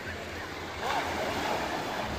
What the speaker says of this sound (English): Back out on the beach again.